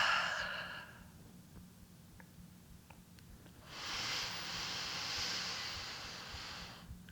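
A long, breathy exhale after a held breath during a winter yin yoga session, preceded by a shorter outbreath, close and soft in a quiet room.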